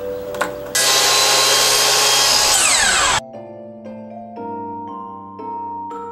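A power saw cuts a roughly six-inch piece of wood in a workshop: a loud, steady whine of about two and a half seconds that cuts off sharply, then the motor rings down through falling tones.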